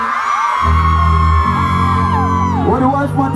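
A large outdoor crowd at a dancehall performance at Hope Gardens screams and whoops loudly and continuously at close range, with bright high-pitched voices swelling together after the performer's call.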